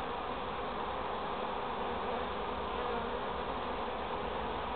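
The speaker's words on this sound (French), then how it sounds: "Le bourdonnement devrait changer au niveau de la ruche." Honeybees at a hive with a freshly marked queen give off a steady, dense buzzing drone that holds at an even level throughout, close and unbroken with no voices.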